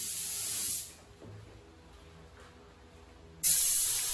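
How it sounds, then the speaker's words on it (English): Spray gun applying Stabond contact cement adhesive to Filon fiberglass siding for an RV camper, heard as a loud steady hiss that cuts off, pauses for a few seconds, then starts again. "again using the spray gun to apply the adhesive in even coats"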